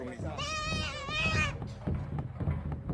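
A goat at a voodoo ritual sacrifice gives one long, wavering bleat close by, followed by a low murmur of people talking and background activity.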